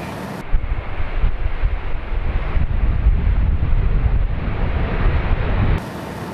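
Loud, steady wind roar rushes through an open cockpit window of a Boeing airliner during takeoff, a broad low rumble that holds for about five seconds with no talk.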